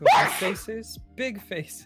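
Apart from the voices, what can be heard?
sneeze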